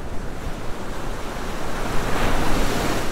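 Ocean surf washes in as a steady, broad rush of breaking waves, fairly loud and continuous, with wind noise mixed in and no voices.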